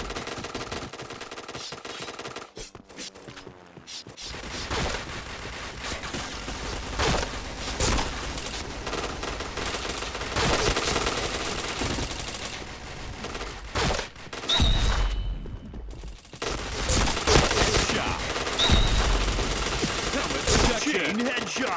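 Gunfire in an online shooter match: repeated bursts of automatic fire and single shots, loud and close, in clusters with short gaps across the stretch.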